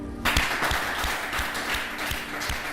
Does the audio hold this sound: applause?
yes